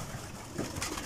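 Soft pigeon cooing, faint and somewhat distant, against a hissy background.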